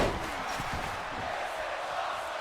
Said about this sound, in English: so the crowd chanting